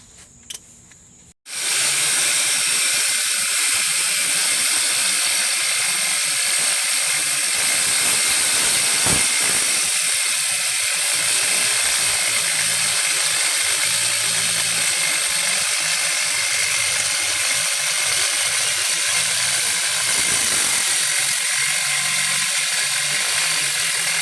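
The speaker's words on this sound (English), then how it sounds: "these two bolts right here and this big one are what you're going to take off." A ratchet works steadily on the bolts holding a disc brake assembly during a brake swap on a 1967 Tempest, loud and close, a dense continuous mechanical whir after a quiet opening moment.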